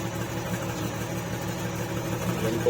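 A Chery QQ 308 car engine idles steadily at close range, a low rumbling exhaust drone with a faint uneven pulse and no talking.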